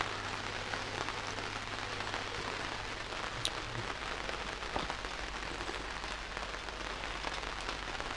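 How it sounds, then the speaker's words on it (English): Summer rain drums continuously on an overhead cover in a garden, a close, even pattering with an occasional louder drop. "It's nice to hear it raining on this cover"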